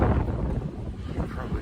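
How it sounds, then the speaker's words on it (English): Wind blowing outdoors in the early morning beside Hamilton Lake, a steady low rumble buffeting the microphone throughout, with no voice over it. "It's a little windy."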